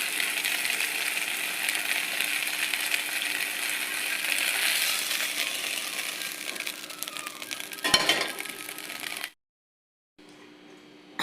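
Greens and a chili cut into two halves sizzle steadily in hot oil in a wok, a continuous bright hiss with a brief clatter near the end before the sound cuts off.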